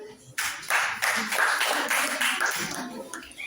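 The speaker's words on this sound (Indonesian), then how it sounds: "Ya, beri tepuk tangan." Students in a classroom clap together in a short burst of close, fairly soft hand clapping that swells and then tapers off over a few seconds.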